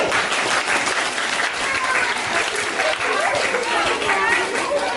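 An audience of children and adults applauds a Nao robot at a show, sustained loud clapping filling the whole stretch, with crowd chatter and voices mixed in beneath it.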